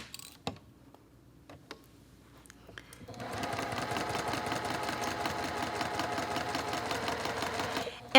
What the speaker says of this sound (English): And then here I'm just going to sew down the seam.